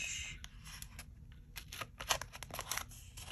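A small paper punch clicks and crunches through planner paper in a string of sharp, close snaps and rustles, with no talking.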